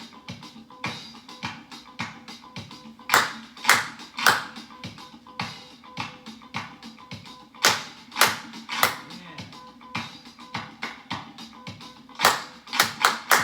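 Hand clapping in patterned rhythms for a listening exercise with children, sharp individual claps in short groups separated by pauses, some louder accents, over faint background music.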